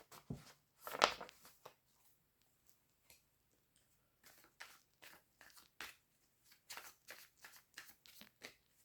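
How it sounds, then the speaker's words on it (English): Playing cards being shuffled in quick riffling bursts, close and crisp, separated by short quiet gaps. "Or is it just these cards that I can shuffle like that?"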